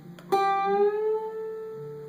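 A single plucked guitar note rings out and is bent up a whole step, sliding smoothly higher and then sustaining as it slowly fades.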